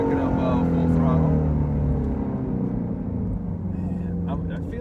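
A 2020 Shelby GT350 at full throttle on a winding backroad: a loud, rising engine roar that holds strong for about a second, then eases off as the car slows, with someone talking over it.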